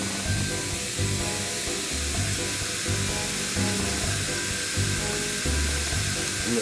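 Portobello mushrooms and hamburgers sizzle on a heated grill, a steady close crackling hiss that runs without a break and carries no talk.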